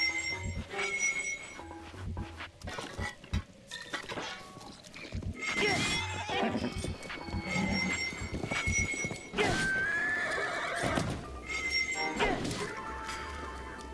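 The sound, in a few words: horse neighing and galloping in Zelda: Breath of the Wild video game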